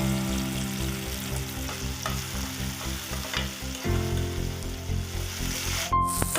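Tomato and coriander roast in a hot pan, sizzling and frying steadily with occasional stirring scrapes, close and moderately quiet throughout.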